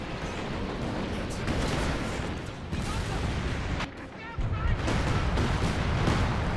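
Artillery barrage from a Company of Heroes 2 battle: a dense, continuous rumble of booms and gunfire rolling on for several seconds, briefly dipping before surging back, with faint voices beneath the din.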